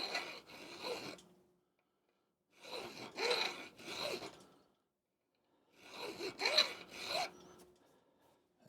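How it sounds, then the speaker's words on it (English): A metal file rasps in three separate bursts of quick back-and-forth strokes, close and crisp, with short silences between, filing a small flat onto a part inside a David Brown 990 tractor's draft control. "I'm going to get the file with the edge, the cutting edge, and I'm just going to put a little flat in there."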